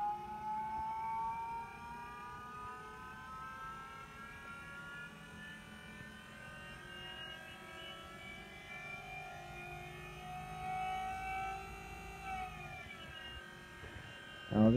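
An Astra electric power steering pump fitted to another car whines steadily as it builds pressure in the lines, a sustained rising electric tone with a faint engine-like hum, ending in a brief clunk.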